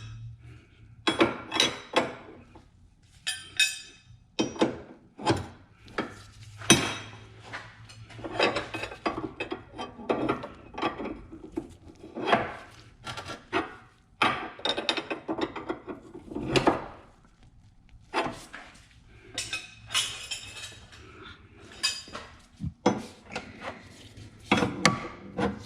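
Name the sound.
tightening track bar nuts with a wrench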